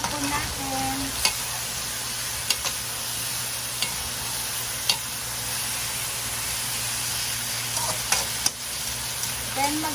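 Chicken afritada with a little oyster sauce being stirred in a sizzling pan, a steady frying hiss with scattered clinks of the utensil against the pan, close and continuous with no talking.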